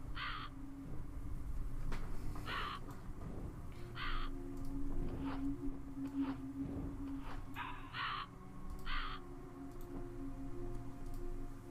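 Crow in a video game cawing in repeated short, harsh bursts, about ten calls spread unevenly across the stretch over a steady low ambient hum, fairly close and clear with no talk.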